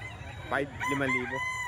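A rooster crows close by, one harmonic call under a voice, with a low murmur of other fowl and people around at a gamecock sale.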